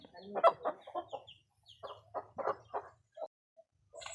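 A brooding hen clucks in short, rhythmic bursts close by, with soft pauses between phrases and a faint higher chirp near the end.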